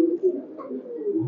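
A pair of small male pigeons at a pigeon farm coo softly in a short, low, rolling murmur close by, with no speech over it.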